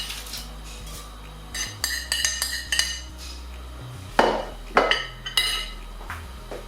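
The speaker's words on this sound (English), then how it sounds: "we're gonna chuck our coriander seeds and cumin seeds first" Coriander and cumin seeds go into a hot pan amid a series of metallic clinks and taps of a utensil against the pan, in irregular bursts close by.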